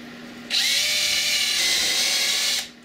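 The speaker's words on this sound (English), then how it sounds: "I'm going to pre-drill two holes right down here." A power drill pre-drilling into wood for a workshop overhead light, one loud sustained whine lasting about two seconds, starting abruptly and winding down, close and alone.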